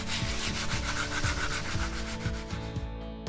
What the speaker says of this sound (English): When sanding aluminum, use only aluminum oxide paper.